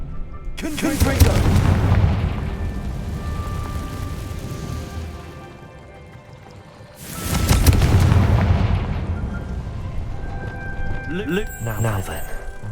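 Two loud, booming blasting-spell explosions from the Hogwarts Legacy video game, each a sharp broadband burst with a rumbling tail, separated by a brief lull, followed by fainter crackling game effects.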